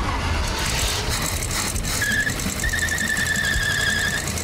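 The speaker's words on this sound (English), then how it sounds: "Oh, the belt sound a little bad." Engine drive belt squealing on a vehicle being fired up and revved, a sustained high-pitched screech riding over loud, continuous engine roar for a couple of seconds.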